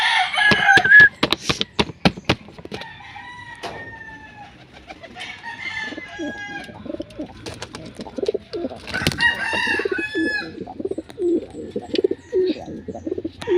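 Pigeons in a flock of about 250 coo and call close by, with wing flaps, scuffling and sharp clatters scattered throughout, and fainter bird calls layered underneath.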